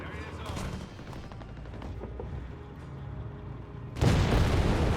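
Battle in the Company of Heroes 3 strategy game, DAK versus USF: bursts of gunfire and heavy booms rumble throughout, ending in a loud, sudden explosion, with a commentator's voice faintly under the action.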